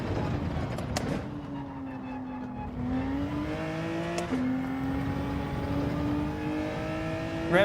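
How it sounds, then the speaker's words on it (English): A race car engine in Gran Turismo 7 revs hard and continuously through a gear, the loud droning pitch climbing, dropping at shifts and climbing again, close and steady with no talking. "Revved out second a little bit more there to try and avoid that wheel spin."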